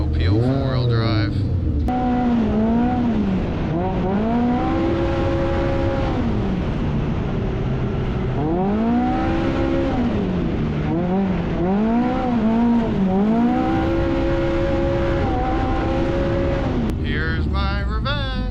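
A Can-Am X3 side-by-side running in four-wheel drive through tight woods, its engine loud and close, revving and falling back in repeated climbing surges with a harsh buzzing drone throughout.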